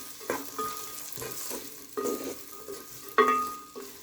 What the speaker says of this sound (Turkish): Şimdi bunlar böyle kavrulsun